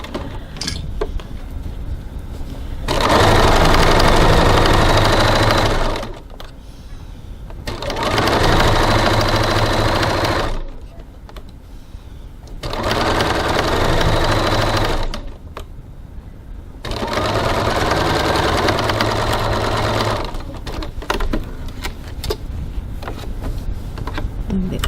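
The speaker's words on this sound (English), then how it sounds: "Now we're going to go over to the sewing machine and we're going to stitch the top and the bottom with our regular seam allowance." A sewing machine stitches the top and bottom of a piped seam at 2.4 stitch length, running loud and close in four steady bursts of several seconds each, separated by short quiet pauses.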